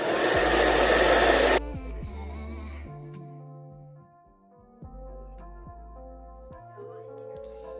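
Close, steady whoosh of a hair dryer blowing on curly hair for a second and a half, then cutting off into quiet handling noises and soft talking.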